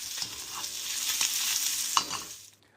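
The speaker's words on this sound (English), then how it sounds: "we have our steak pretty much re-warmed back up in our clarified butter" Leftover steak re-warming in clarified butter in a pan, a close, lively sizzle with small crackles that swells, then fades away at the end.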